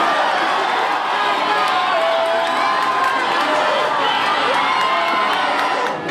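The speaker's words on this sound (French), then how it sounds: "C'est une foule enthousiaste qui l'accueillait à l'église paroissiale de Lourdes" A large, enthusiastic crowd at the parish church in Lourdes welcoming the pope, a dense continuous roar of cheering and shouting voices with children's cries mixed in, loud and steady throughout.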